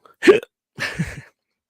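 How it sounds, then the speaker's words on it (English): Two sharp hiccups from a man, spaced about half a second apart, close and fairly loud with no talk around them. "I have the hiccups now."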